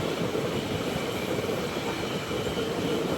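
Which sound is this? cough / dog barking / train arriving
train arriving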